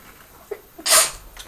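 A small animal sneezes once, a sharp bright burst near the close microphone after a couple of faint sniffs, with quiet room tone around it.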